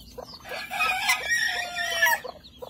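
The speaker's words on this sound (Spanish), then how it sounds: "déjame ver los pollitos" Chicks chirping in a rapid, overlapping chorus of high peeps, close and fairly loud, with no voices.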